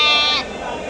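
A Kapni sheep with a brown face gives a single short, close bleat on a sheep farm in Mandya, and the cry cuts off quickly into quiet farm ambience.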